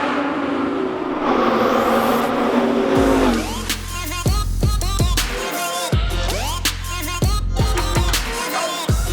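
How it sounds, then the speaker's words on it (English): An Audi R8 V10 with a gated 6-speed manual gearbox drives hard, the engine rising and falling through repeated revs and gear changes, loud and close with brief tire squeal. "this gated shifter 6-speed manual transmission Audi R8 V10"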